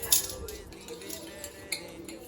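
A spoon clinks and scrapes against a bowl while salt and seasoning for shrimp and fish tacos are mixed, in light, irregular taps that are quiet and close.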